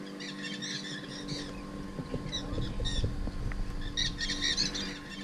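Many birds, likely parrots, call at a clay lick in the Amazon rainforest, where mineral salts leach to the surface: overlapping squawks and shrill calls come in bursts at a moderate distance over a steady low boat-like hum.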